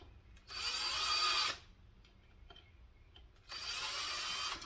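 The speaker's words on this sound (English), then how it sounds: "grab our drill." Power drill driving screws into wood while building a homemade fishing line spooler: two close, loud bursts of whirring, each lasting about a second, separated by a quieter pause with faint handling noise.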